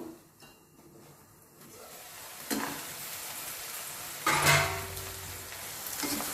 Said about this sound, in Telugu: కొంచెం ఆనియన్ ఫ్రై ఇద్దాము ఫ్రై అయితే కానీ మనకు టేస్ట్ బాగోదు